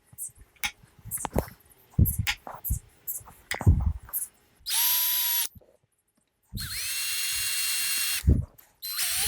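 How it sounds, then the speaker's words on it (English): A power drill bores holes into a custom Flying V guitar body, its motor whining in two sustained bursts of a couple of seconds each, separated by pauses and preceded by clicks and handling knocks. "I can go ahead and drill my holes here."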